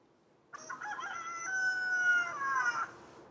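A single rooster crows a long, drawn-out cock-a-doodle-doo, loud and close, with nothing else around it.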